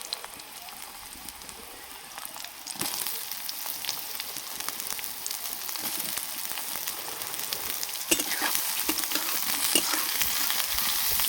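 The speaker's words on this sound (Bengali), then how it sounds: "এর মধ্যে আমি সয়াবিন দিলাম" Soybean chunks frying in hot oil with onions and a bay leaf, a steady close sizzle with scattered crackles and pops that grows busier after a few seconds as the pan is stirred; no talking.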